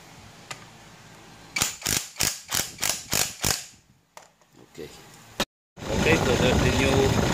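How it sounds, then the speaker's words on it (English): New alternator overrunning clutch pulley fitted on a running vehicle, heard as a run of about seven sharp rhythmic mechanical clicks or whirs, followed by a brief pause and then a steady engine hum, close by. "Okay, so there's the new overrunning clutch pulley. So it's working"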